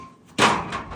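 An old cattle trailer's original door shuts with a sharp slam and short rattling thud, close by, followed by a brief fading rumble.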